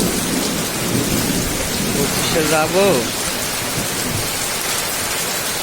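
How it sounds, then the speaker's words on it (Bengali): Heavy rain pouring steadily in a village, a dense loud wash of drumming drops throughout, with a person speaking briefly in the middle. "কি বৃষ্টি শুরু হয়েছে।"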